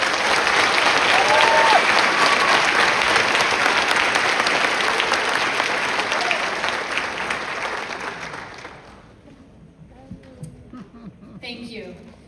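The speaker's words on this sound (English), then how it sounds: "How about a round of applause?" Sustained applause fills a graduation commencement ceremony, loud and steady for about nine seconds before thinning out and fading to scattered claps and quiet room noise.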